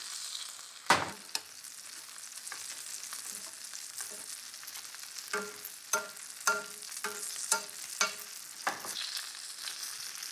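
Butter sizzles and spits in a hot pan while turbot is basted, a steady frying hiss broken by regular spoon clinks and splashes, with no talking.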